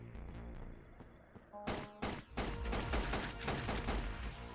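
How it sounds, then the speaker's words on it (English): Gunfire from an enemy ship in a video game bursts in with a dense run of sharp, loud shots that follow quicker, lighter pops, with no talking over it. "Someone else shooting at me? It's that ship."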